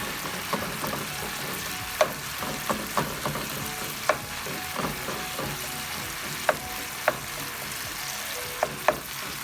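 Tomatoes and meat fry in a pan while a wooden spatula stirs them, giving a steady close sizzle broken by sharp periodic scrapes and taps, with no talking.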